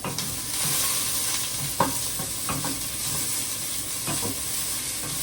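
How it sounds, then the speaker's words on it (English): Onions with seasonings and tomatoes sizzle steadily in a pan for chili while a spoon scrapes and stirs them in a few distinct strokes, close up with no talking. "So I'm going to get my spoon, move my onions around a little bit."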